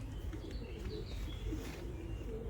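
Domestic pigeons coo softly and steadily in a loft, a low murmuring chorus with no voices.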